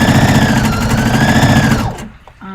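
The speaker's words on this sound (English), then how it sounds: "the sewing machine." Sewing machine stitching bias tape on a dress, a loud close mechanical whir with fast rhythmic needle clatter that runs steadily, then stops after about two seconds, leaving near silence.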